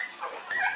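Brief, faint high-pitched whimper from a Rottweiler dog, two short whining squeaks close by with little else around them.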